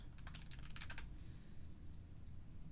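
Quick bursts of computer keyboard typing at close range for about a second, then a few faint scattered keystrokes over low room hum.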